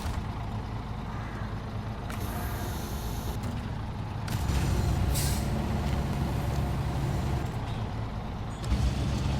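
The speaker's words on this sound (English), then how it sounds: "Park and brake." A heavy truck in the off-road driving game SnowRunner idles and parks, its engine droning low and steady while sharp bursts of air-brake hiss cut in and fade.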